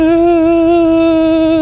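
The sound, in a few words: motorcycle tyre whine at 100 km/h, Honda Transalp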